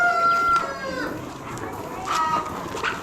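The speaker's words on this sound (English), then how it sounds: "And they're chickens." Chickens at a bird auction cluck and call close by, several birds overlapping in a busy farmyard din, with a couple of higher drawn-out calls.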